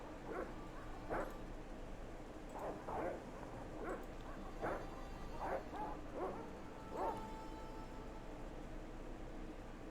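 Dogs in the Broken Sword: Shadow of the Templars game give short bursts of barking and yipping, about eight or nine sharp yelps spread across the clip at moderate distance over a faint hiss.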